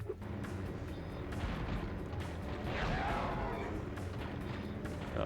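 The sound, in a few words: cannon firing at tanks in Spyro: Year of the Dragon video game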